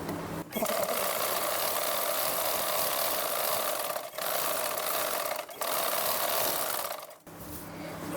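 A sewing machine runs in long steady bursts, stitching lining onto blouse cloth, with a close, even mechanical whir broken by three short pauses.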